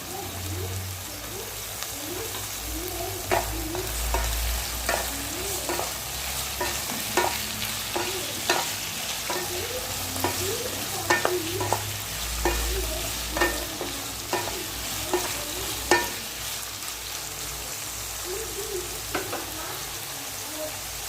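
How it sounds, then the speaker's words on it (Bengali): Potatoes and onions frying in a pan, a continuous close sizzle with repeated scraping and clinking strokes of a spatula as the pieces are stirred throughout, over a low background hum, no speech. "আলু পেঁয়াজটা একটু ভাজা হোক"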